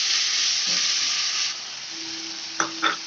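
Ground tomatoes hit fried onions for a fish curry, and a loud steady sizzle hisses close up, then eases and gives way to a couple of sharp spatula scrapes near the end.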